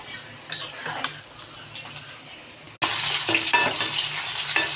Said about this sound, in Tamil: கடுகு, கருவேப்பிலை, வெங்காயம், ஒரே ஒரு பட்டை வட்டை போட்டுக்கிடுவோங்க.